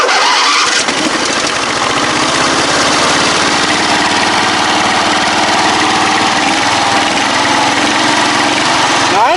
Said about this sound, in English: I think it's just stalling it out.